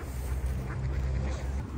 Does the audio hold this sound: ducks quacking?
yes